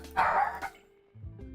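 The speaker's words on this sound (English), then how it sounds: "Excuse the barking in the background." A dog barks in the background, a single burst followed by a short yip, while a faint low hum continues underneath.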